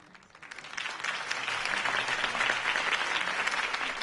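Steady crowd applause in Batman: The Telltale Series swells quickly and holds loud and dense, a wash of many hands clapping with no voices over it.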